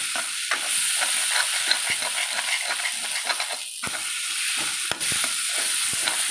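Taro root sautéing in a pan on high heat, a steady close sizzle with scraping stir strokes and a few sharp clicks throughout, no talking.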